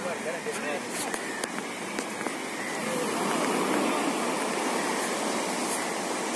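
Arabian Sea waves at Calicut beach in Kerala make a continuous rushing surf that swells louder partway through, with scattered clicks and a voice talking over it.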